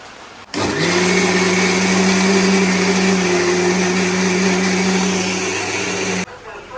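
A wet grinder churns soaked rice into unniyappam batter, a loud, steady droning whir that starts abruptly, holds an even hum throughout and cuts off near the end, with no talking.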